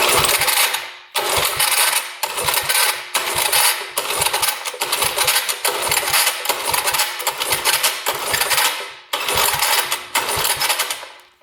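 Small Tecumseh engine pull-cranked with the throttle open during a compression test, making a run of about nine loud, rhythmic rasping cranking bursts separated by short gaps, close to the listener with no speech.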